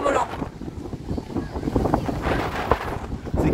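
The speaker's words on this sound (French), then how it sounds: "il y a du vent à mort" Strong wind buffeting the microphone on the seafront at Portsmouth during a kite festival, with gusty, uneven low rumbles and a person talking over it.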